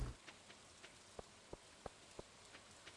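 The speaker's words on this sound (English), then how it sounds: "It's raining." Light rain in the video game Stardew Valley, a soft patter with a handful of distinct drip taps spaced irregularly over a quiet background, faint and without voices.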